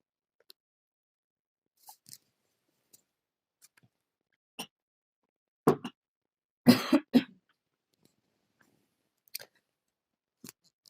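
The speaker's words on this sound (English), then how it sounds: "Got a tickly cough." Someone with a cold lets out a handful of dry, tickly coughs and throat-clearing bursts, scattered across a quiet room, the loudest cluster coming midway through, with no talking.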